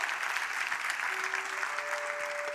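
Church congregation applause during a Spanish-language sermon, a steady wash of clapping heard at moderate distance, with a faint sustained tone running underneath.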